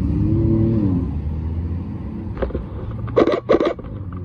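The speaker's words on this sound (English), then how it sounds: "Yellow Revuelto" A yellow Lamborghini Revuelto supercar pulls away from a car show, its engine rumbling low and fading before a few sharp revs and pops burst out near the end.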